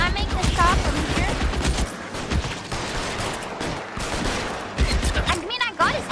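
Gunfire crackles during a chase in L.A. Noire: rapid, loud shots in dense bursts over engine and street noise, with sirens wailing faintly and no talk.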